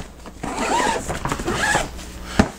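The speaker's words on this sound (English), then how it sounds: "And this right here, zippers closes again." Zipper being pulled closed on a 1/8-scale RC car hauler bag: two sustained rasping zips close to the mic, a brief pause between them, then a short sharp clack near the end.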